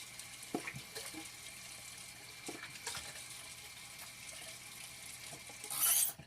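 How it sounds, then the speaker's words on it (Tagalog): Water from a tap runs and splashes into a sink as a face is washed, quiet and close with scattered small splashes and drips and a brighter burst near the end, no talking. "nakapaghilamos tayo"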